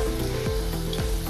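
Semolina breakfast snacks fry in hot oil, giving a steady, close, crackling sizzle with faint bubbling throughout the short moment.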